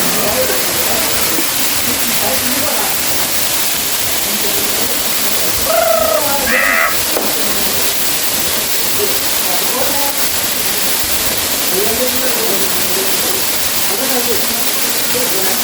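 The Katiki waterfall in Araku pours down in a loud, unbroken rushing roar close by, with a brief voice cutting through partway.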